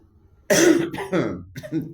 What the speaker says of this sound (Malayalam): ചുമ വരുന്നു തൊണ്ടയ്ക്ക് വേദനയാണ്